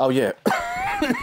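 A single sharp cough sounds close up, followed by a voice speaking briefly.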